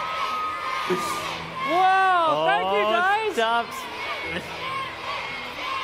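An audience cheers and whoops loudly at the MINECON 2016 Minecraft build contest, a dense crowd roar with high children's shouts rising and falling, while someone speaks over it briefly.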